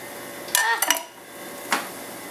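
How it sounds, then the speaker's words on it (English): Chopped onions tumble into a cooking pot for a bacon pot pie: a few short, sharp clattering knocks close by, with a quiet pause between them and no talking. "There goes the onions."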